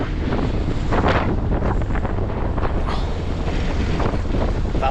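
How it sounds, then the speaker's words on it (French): Strong wind buffets the microphone during pea sowing on a farm, a loud, continuous roar with gusty surges throughout. "Il y a un vent à écorner les cocus."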